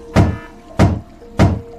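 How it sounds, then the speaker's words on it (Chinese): Three heavy thuds land at even intervals, about half a second apart, as rescuers strike a car window from outside; each blow is close and loud with a dull boom, and no glass shatter is evident. "一阵砸窗户的声音响起"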